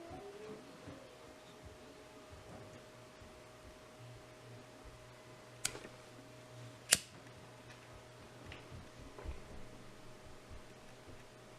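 Scissors snip through cord right beside the knot of a paracord survival bracelet: two sharp, separate clicks in an otherwise quiet room with a faint steady hum.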